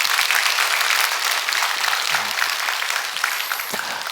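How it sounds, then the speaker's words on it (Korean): A church congregation at a Wednesday evening worship service claps together in a continuous, fairly loud wash of applause that holds steady throughout and fades slightly near the end, with no speech over it. "여러분 한번 크게 박수 한번 하시겠습니다"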